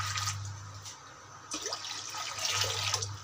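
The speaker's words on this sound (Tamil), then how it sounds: "அதில் வந்து நம்ம ஒரு ரெண்டு சொம்பு தண்ணி ஊற்றிக்கலாம்." Water is poured from a mug into a cooking pot in a home kitchen, to heat for blanching cauliflower, giving a steady splashing rush that pauses briefly and resumes, close up over a low electrical hum.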